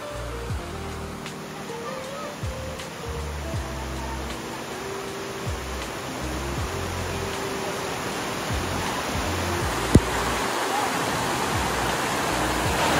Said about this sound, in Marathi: इतका पाऊस पडला तरी पाणी स्वच्छ आहे. आणि हा झरा असा वरपर्यंत जातो